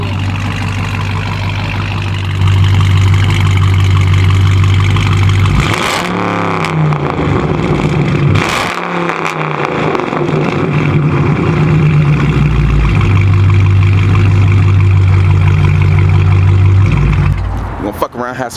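A 2021 Dodge Charger Hellcat Redeye engine idles with a deep, loud rumble, briefly revving and dropping before settling back, while people talk nearby.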